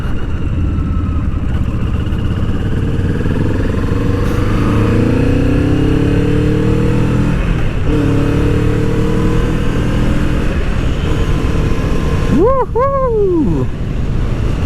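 A Kawasaki Vulcan S fitted with a cafe racer style windscreen, ridden with its engine droning under strong wind rush, the pitch climbing in repeated gear pulls, loud and close, with a quick rising-and-falling tonal sweep near the end.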